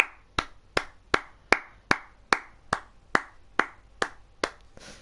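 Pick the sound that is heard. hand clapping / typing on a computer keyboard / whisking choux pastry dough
hand clapping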